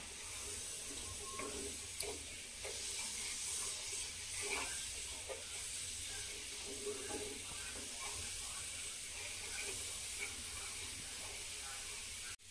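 Steady bubbling hiss of water boiling on a tawa griddle, continuous and fairly close, with faint scattered clinks in the background.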